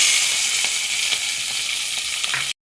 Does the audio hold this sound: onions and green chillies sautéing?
yes